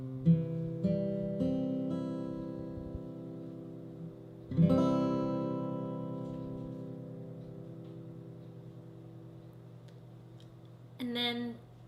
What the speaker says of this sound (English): After that, you need to know C, which looks like this and sounds like this.